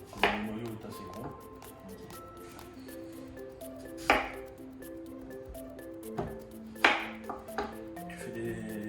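Knife slicing peaches into pieces on a board, a few sharp cutting knocks spaced irregularly against a soft ringing background, close and moderately loud.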